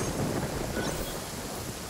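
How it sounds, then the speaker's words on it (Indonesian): Thunder rumbles in the Genshin Impact video game, a continuous broadband roll mixed with steady rain noise that holds fairly even throughout. "ada petir lagi"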